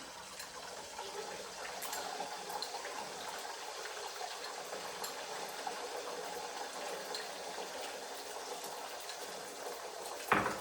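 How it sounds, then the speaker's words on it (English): Egg liquid poured into a hot pan sizzles and crackles in a steady, soft hiss with faint scattered pops, continuing evenly throughout with no talk. "be careful, can pour the egg liquid in the pan"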